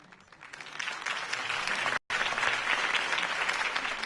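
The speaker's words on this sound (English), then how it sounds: "If only Mr. Wayne, my campaign's largest backer, could have heard that applause" A large crowd applauds after a mayoral campaign speech by Harvey Dent, with dense sustained clapping that swells and holds steady, cut by a brief dropout midway before resuming at full strength.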